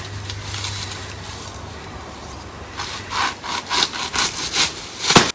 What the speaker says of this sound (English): And I'll see if it's gonna work with the old handsaw.